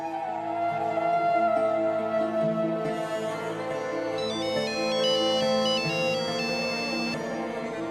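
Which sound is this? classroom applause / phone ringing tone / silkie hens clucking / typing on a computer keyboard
phone ringing tone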